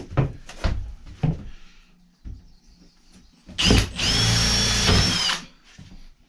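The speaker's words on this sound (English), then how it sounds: "now drilling into the fiberglass so they know where to put those rivets exactly" A power drill bores into the fiberglass ceiling of a shuttle bus under conversion, a loud, close whine lasting about two seconds, preceded by several knocks, clunks and handling sounds.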